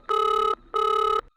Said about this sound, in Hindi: ओए, लगता है तेरी सास का फोन है।